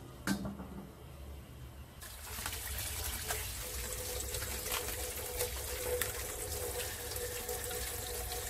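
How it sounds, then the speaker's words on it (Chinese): Boiling water poured into a pan of braising dried oysters, a steady close gushing splash that swells after a faint knock and continues evenly to the end. "那我给少少滚水下去，继续用小火焖煮它10分钟。"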